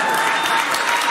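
A TV studio audience bursts into dense, loud applause, many hands clapping steadily throughout with no break.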